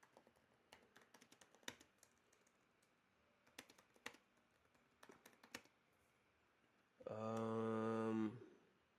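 Someone types a support ticket on a computer keyboard in bursts of quiet, close key clicks with pauses between them. A brief tonal beep near the end masks the typing.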